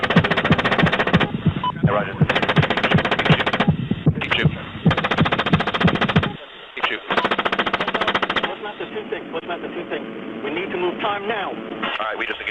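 Bursts of rifle and machine-gun fire in a military engagement, rapid rattling volleys repeated close and loud, with voices speaking over a radio between and under the shooting.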